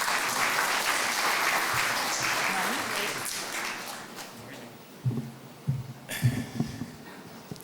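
An audience at a sustainability talk applauds a keynote speaker's introduction. Strong clapping fades gradually, then a voice begins speaking over the last scattered claps.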